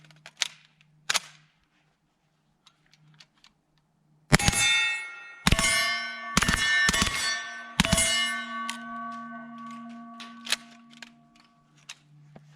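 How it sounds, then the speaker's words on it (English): Suppressed H&K SP5 firing 9mm subsonic rounds: about five sharp, close shots in an uneven string, each with a metallic clang and ringing tail, after a few faint clicks and near-silence. "so we're gonna shoot this thing suppressed."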